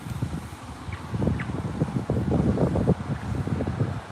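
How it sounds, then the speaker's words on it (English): Gusty wind buffets an outdoor microphone at the SpaceX Starbase launch site in Boca Chica, Texas, a steady low rumble that swells and pulses for several seconds with no voices. "Here comes the wind."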